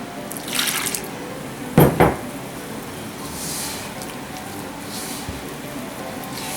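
Milk is poured into semolina flour and worked in by hand, giving a short wet splash and soft squishing bursts, quiet and close, with no talk.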